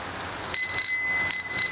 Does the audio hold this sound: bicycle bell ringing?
yes